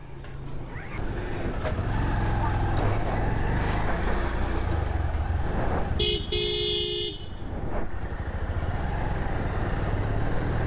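Motorcycle engine droning steadily at speed on a state highway between Kanyakumari and Kerala, with rushing wind and road noise; a vehicle horn honks briefly partway through.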